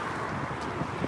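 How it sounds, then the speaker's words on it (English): Steady wind rushes and buffets against the microphone, a constant low roar with no voices over it. "it's too windy"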